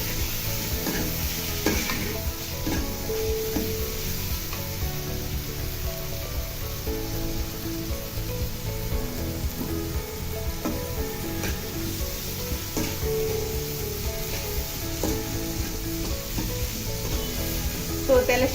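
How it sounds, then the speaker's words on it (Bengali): Ground spices, chili powder and salt frying in oil in a pan, a sustained close sizzle with frequent scraping and stirring strokes throughout, no voices present. "এখন মশলাটাকে তেলের সাথে একটু ভালোভাবে ভেজে নিব।"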